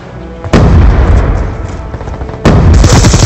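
Grenade blasts in the shooter game Black Ops 2: two loud, close booming explosions, each a sudden burst followed by a rumbling, roaring tail.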